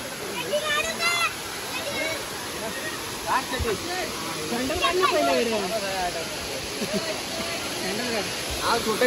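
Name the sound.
waterfall at Yeur, Thane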